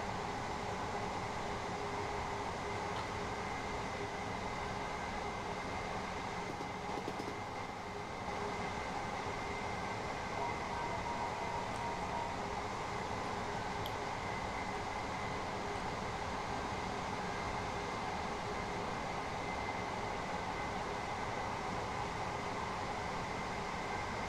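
A Class 377 electric train runs steadily on the East Coastway route in Train Sim World 2020, giving a constant, quiet interior rumble and hum with faint rail clatter, unbroken throughout and with no talk.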